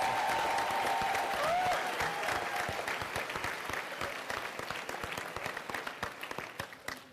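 A town hall audience applauds in a vote by applause, the dense clapping strong at first and then thinning into scattered claps. A brief whistle-like tone rises over it early on.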